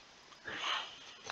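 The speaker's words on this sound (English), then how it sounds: "Sniffing the camera." A short, close sniffing burst from an animal nosing right up to the microphone, soft breathy puffs over quiet background.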